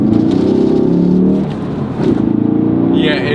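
A Ford Focus RS in drift mode moves slowly over snow, its engine humming steadily with a rise in revs near the end, heard from inside the car.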